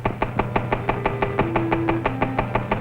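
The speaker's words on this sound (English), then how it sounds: "This test engine is equipped with a dial indicator that shows just how badly the engine is knocking." A 1940s test engine knocks hard on low-octane fuel, giving rapid, even metallic raps close and loud over a steady engine drone, with a tone sliding in pitch underneath.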